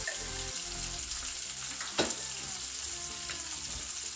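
Salted fish and peppers being stirred with a little light broth in a pan, a soft continuous sizzle with a single sharp utensil clink near the middle, fairly quiet.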